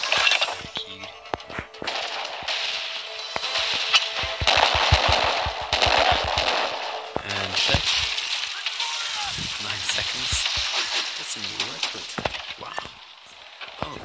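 Naval cannon fire and crashing destruction as a ship is attacked in Assassin's Creed Pirates, a dense, continuous barrage of booms and crackling debris with sharp bursts near the start, layered under game music and effects.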